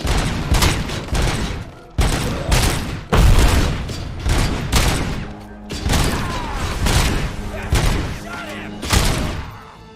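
Video game gunfire from shooting people, heavy bursts of shots coming in loud clustered volleys with short pauses between, thumping and booming close up, with speech mixed in.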